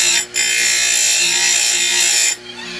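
A chainsaw chain sharpening machine grinds a tooth in one steady, high, abrasive whine lasting about two seconds, starting and stopping abruptly, close and loud with no talk.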